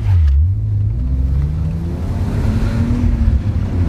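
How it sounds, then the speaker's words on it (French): A BMW 323ci six-cylinder running on ethanol, with a not-quite-stock exhaust, revs from a distance under heavy wind noise, its pitch rising and falling in long sweeps. "j'ai entendu vachement de loin le petit 6 cylindres du Seine"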